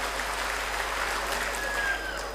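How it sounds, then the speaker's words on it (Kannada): Steady applause from an audience at a live gathering of a Karnataka public-awareness trust, a dense even patter of many hands at moderate distance, continuing unbroken for a couple of seconds. "ತಮ್ಮೆಲ್ಲರಿಗೂ ಮತ್ತೊಮ್ಮೆ ಜೋರಾದ ಚಪ್ಪಾಳೆ ಮೂಲಕ ನಾನು ಅಭಿನಂದನೆಗಳನ್ನು ಹೇಳೋದಕ್ಕೆ ಬಯಸ್ತಾ ಇದ್ದೇನೆ"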